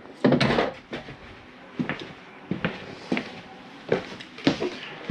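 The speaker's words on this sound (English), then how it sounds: "Make sure that all doors and drawers are closed." Cabinet doors and drawers inside a Jayco Seismic 4113 toy hauler RV are pushed shut, giving a series of about eight short, close wooden knocks and thumps at uneven intervals with no talking.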